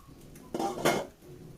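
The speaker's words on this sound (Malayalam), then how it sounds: "നമുക്കൊന്നും കൂടെ ഇളക്കി കൊടുക്കാം" A mackerel fish curry with its liquid cooking down is stirred in a cooking pot: two quick, close metallic scrapes and clinks of a utensil against the pot over a quiet background.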